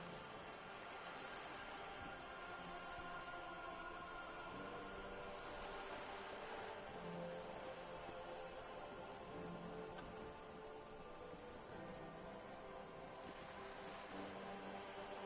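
Steady rain falls and patters continuously on surfaces at low volume, a soft even wash with no voices over it.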